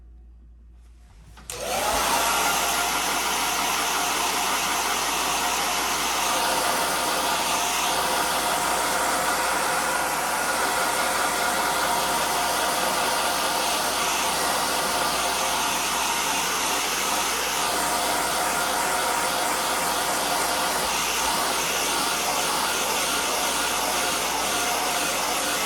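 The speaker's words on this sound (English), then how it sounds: "So I'm going to just mute this while I blow dry." A hair dryer blows steadily and loudly after a brief quiet start, a continuous broadband whoosh that holds for the rest of the clip with no talking.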